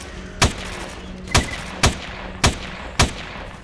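Gunfire in the S.T.A.L.K.E.R.: Call of Chernobyl video game: five loud, sharp shots spaced irregularly about half a second to a second apart, close by, over a rumbling background.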